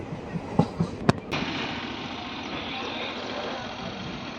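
A Macherla–Guntur passenger train runs through Palvai station without stopping. A few sharp clanks come first, then a steady rumbling roar of wheels and carriage noise that carries on at an even level.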